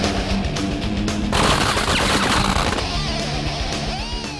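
A-10 Thunderbolt cannon firing on tanks during a live-fire military exercise, a loud sustained burst of rapid gunfire with a roaring rush, heard alone without talk.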